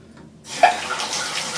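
Water gushes steadily and loudly from a newly installed bathtub shower faucet valve, starting abruptly after a moment of quiet and running as a continuous close rush.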